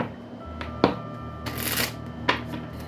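Oracle cards are shuffled by hand, giving a few quick papery riffles and soft taps close by, with no voices.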